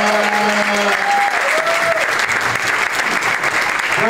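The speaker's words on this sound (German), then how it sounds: "riesen Applaus für Walli Kassan" An audience at a German comedy show claps loudly and steadily in a dense burst of applause, with a few raised voices briefly audible over the clapping near the start.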